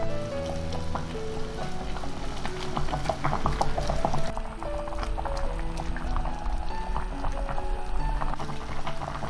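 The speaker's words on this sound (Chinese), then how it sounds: "加入开水煮开了之后呢，就把它转到砂锅里来" Water boils in a clay pot with a grass carp head that was first pan-fried golden. The steady bubbling and sizzling carries on throughout, with tonal music playing softly beneath it.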